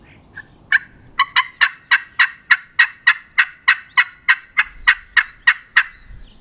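Custom turkey call from Feather Moon Outdoors, a close, crisp series of about sixteen evenly spaced yelping notes after a couple of soft starting clucks, played alone.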